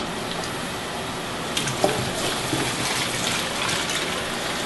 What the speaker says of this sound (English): The reason I'm rinsing in cold water is to make these noodles more chewy.